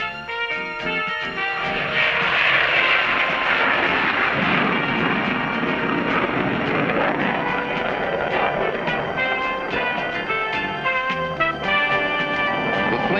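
An F-14 Tomcat jet on a runway with afterburners lit, a loud, continuous roaring rumble with a harsh tearing quality and some tonal whine that fills the whole stretch, no talk.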